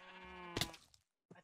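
Sheep bleating in the video game Minecraft, a single close, clear bleat followed by a short click and then a brief faint sound after a moment of silence.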